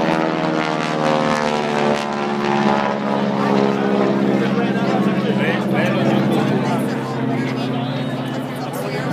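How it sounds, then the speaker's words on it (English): A propeller plane drones loudly overhead at Pocono Raceway, its steady engine hum sustained throughout, with a voice faintly audible beneath the noise. "the plane flew right over my head"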